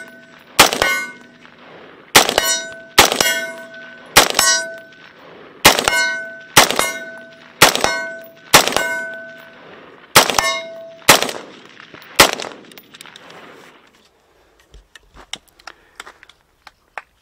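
About ten loud, sharp rapid-fire shots fed from a Gen 1 Magpul PMAG magazine that sat loaded for twelve years, each report leaving a metallic ringing tail, followed by a few faint clicks and rattles once firing stops.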